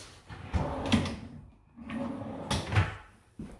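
Wooden drawer in a newly painted house being slid open and shut several times, producing dull thumps and scraping rumbles in uneven bursts, close by and moderately loud.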